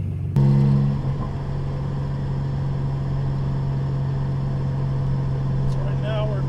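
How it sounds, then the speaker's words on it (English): Turbocharged Nissan Z with a new downpipe and turbo blanket, driven on low boost: a steady, loud, droning engine note runs close and constant throughout after an abrupt start, with faint higher whines near the end. "So I'm going to take y'all for a little ride"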